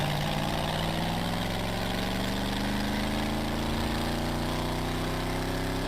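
A muscle car engine in the Need for Speed World video game burbles at low revs, a constant heavy, rumbling drone with slowly rising tone throughout, loud and alone.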